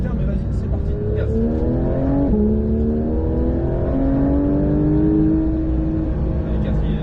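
A Porsche 911 992 GT3 accelerates hard around the Mettet circuit, its engine note climbing steadily through the revs with a brief dip at a gear change, loud and continuous while a voice talks over it.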